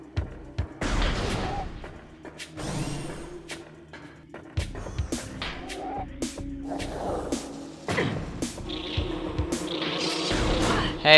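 War Wasps from the Metroid Prime video game buzz in bursts amid busy gameplay effects, with scattered sharp impacts and shots over a constant droning background, fairly loud throughout.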